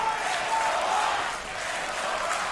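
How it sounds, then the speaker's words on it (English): A crowd at a Dota 2 esports match cheers and applauds in a steady, distant-sounding roar that swells and dips slightly, with no clear speech. "You hear the crowd very, very happy here."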